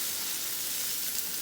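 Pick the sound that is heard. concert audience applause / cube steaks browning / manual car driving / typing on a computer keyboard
cube steaks browning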